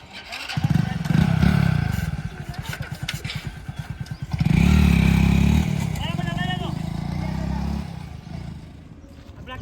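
Motorcycle engine running close by, rising in two loud rumbling surges with clatter, while people talk and shout over it.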